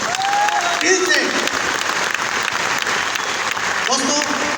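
Audience at an IMC company event clapping for the chairmen, a dense, continuous wash of applause with voices calling out over it.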